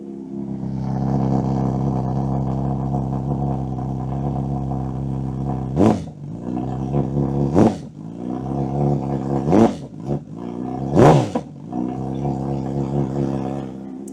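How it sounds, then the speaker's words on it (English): A cold Honda CB1000 Hornet SP engine idles with a loud, rumbling Ixrace M8 slip-on exhaust, broken by about four sharp throttle blips that rev up and quickly fall back. "Gonna give it some revs, not too much of course,"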